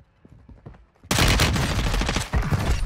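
An MP5 submachine gun in a first-person shooter opens up abruptly after a quiet moment, a loud, sustained rapid-fire stream of close shots continuing to the end.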